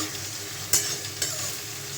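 Chopped onion fries with meat masala, chili powder, Kashmiri red chili and green chilies in a pan, giving a steady close sizzle with two sharp scrape-and-stir hits.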